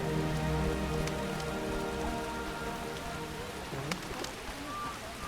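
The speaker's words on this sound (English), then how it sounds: "Rains and rains." Steady rain pattering on surfaces fills the scene in The Witcher: Enhanced Edition, a constant soft hiss with scattered droplet ticks, heard alone at moderate level with a brief faint tone near the end.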